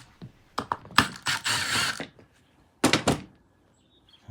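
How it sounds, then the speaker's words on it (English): Torx screws being backed out of a Milwaukee Quik Lok hedge trimmer during a teardown: a few close, sharp clicking and ratcheting bursts of a driver, then a short pause and another cluster of clicks. "So we've got 2 Torx bits on that. Let's pop those out."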